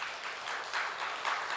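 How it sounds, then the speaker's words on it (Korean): Brief burst of congregation clapping at a Sunday church service, soft and somewhat distant, rising in uneven swells. "우리 고생 많았다고 박수 한번 하겠습니다."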